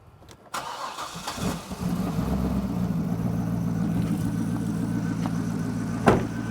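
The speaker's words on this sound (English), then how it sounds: "so now I'm going to start the engine" A Chevrolet Corvette engine cranks briefly, catches, and settles into a steady, close idle that continues evenly, with a faint click near the end.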